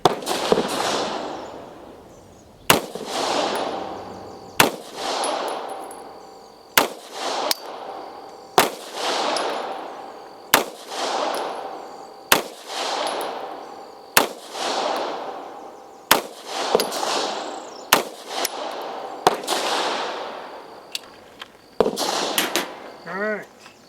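Ultra Star 9mm pistol fired at an outdoor gun range, about a dozen sharp, loud reports spaced roughly one to two seconds apart, each followed by a ringing echo decay.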